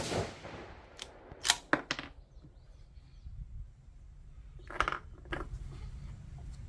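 Rifle shots fired while sighting in a scope on a freshly chambered barrel, heard as a few sharp, loud cracks spaced seconds apart over a quiet outdoor background.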